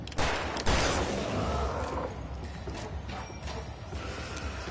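Shotgun handling and gunfire in the video game Alan Wake: two sharp blasts near the start, followed by continuous action noise and mechanical clatter.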